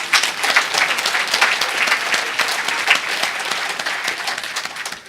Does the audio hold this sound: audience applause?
yes